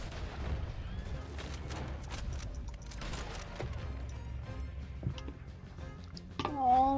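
Gunfire in Red Dead Redemption 2, a rapid run of sharp shots and booms over a dense, busy game soundscape, fairly close and continuous, with a louder swell near the end.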